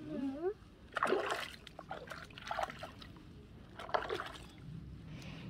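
Water splashing and pouring while a young child is rinsed after a shampoo, several irregular splashes and trickles close by, with people talking over them.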